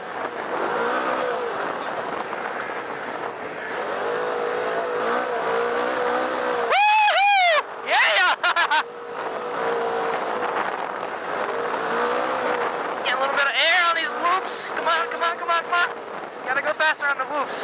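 A Polaris RZR RS1 side-by-side roars close up over off-road terrain, its engine revving hard and dropping off in steady loud surges with brief gaps, while a rider's voice breaks in now and then.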